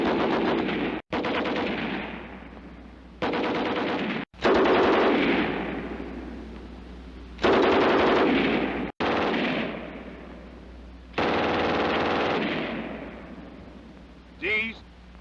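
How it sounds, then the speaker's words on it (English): German World War II MG34 and MG42 machine guns firing in film scenes, loud rapid bursts of a ripping, continuous roar, each lasting a second or two and separated by abrupt cuts and short pauses. "note the distinct sound of the MG34 and MG42 compared to the American light"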